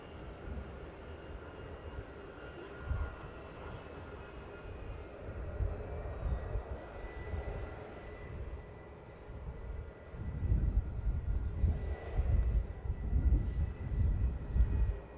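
EasyJet Airbus A320neo airliner landing on runway 05R at Manchester Airport, a low distant engine rumble that builds louder and heavier toward the end, with no voices.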